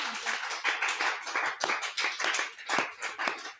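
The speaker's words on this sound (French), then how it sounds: "Applaudis pour toi-même" Congregation clapping in a church service, a dense run of hand claps with an uneven, slightly pulsing rhythm, loud and close, filling the moment with no talk.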